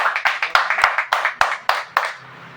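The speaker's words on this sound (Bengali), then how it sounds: "সনাতন স্যারের জন্য একবার জোরে হাততালি হয়ে যায়" Audience at an indoor gathering clapping for the host, about a dozen sharp, slightly uneven claps in a quick rhythm that thins out after two seconds, fairly close and not very full.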